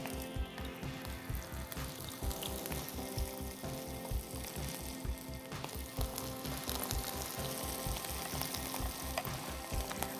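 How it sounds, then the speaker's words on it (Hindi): Food with a tomato side sizzles steadily in a pan, loud and continuous, with a fast regular bubbling patter running beneath the hiss throughout. "हम इसको फ्राई करने लगे हैं"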